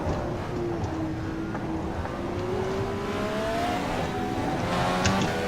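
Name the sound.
Indycar engine in video game rFactor 2 at Mid-Ohio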